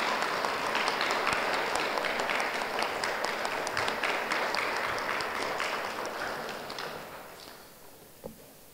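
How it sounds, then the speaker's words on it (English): A ceremony audience applauds in a dense, steady wash of clapping that gradually thins and fades away near the end, with no speech over it. "And I'd like a very special round of applause for Jen Ricciarelli."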